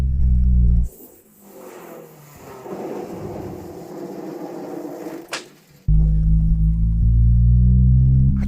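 A car with a blown-out muffler revs, loud low engine drone cutting out to near silence with clattering and a sharp bang, then the harsh rumbling roar returning strongly.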